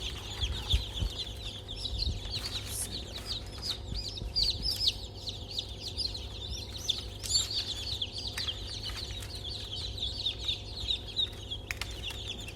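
Many newly hatched village chicks peep continuously in an incubator in high, overlapping chirps, a busy chorus with a low background rumble and occasional handling noises.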